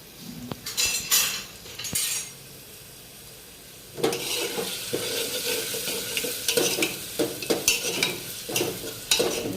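A spoon stirs spices into khichdi in a pot, giving repeated scraping clinks against the metal over a soft sizzle, with a short pause before steady stirring resumes up close.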